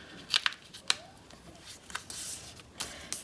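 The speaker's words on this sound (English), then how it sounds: "Open up, fold one flap down," Sheets of paper folded into a corner bookmark give off several short, crisp crackles and taps close by, with soft rustling between them and no voice over them.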